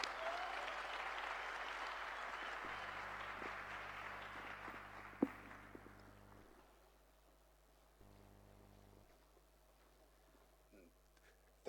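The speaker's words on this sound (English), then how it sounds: "please give him just a massive round of applause as he comes up" Applause from a youth conference audience greets a speaker coming to the stage. It starts fairly strong, then fades over several seconds into quiet room noise with a hum.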